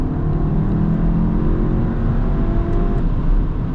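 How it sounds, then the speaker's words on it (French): Skoda Octavia VRS with a Stage 1 tune running on E85 accelerates, a steady, loud engine drone and road roar from inside the car with no speech. "On va se faire quelques petites accélérations."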